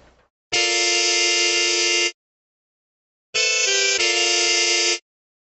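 Trumpets in a brass section with the fifth trumpet doubling the lead an octave lower, playing two bright, loud sustained chords of about a second and a half each, separated by a pause, with no talk.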